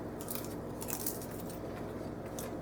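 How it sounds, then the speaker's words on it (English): Popcorn being eaten, with steady close crunching and chewing throughout and no talking. "I apologize for the crunching sound."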